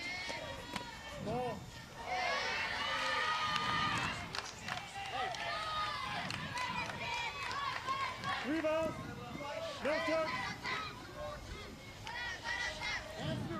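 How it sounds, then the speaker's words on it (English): A crowd cheers and chants in high voices for the Summerlin South Little League softball team at a Las Vegas vs San Marino game, with steady babble and calls rising and falling throughout. "Cheering on the Summerlin South Little Leaguers here."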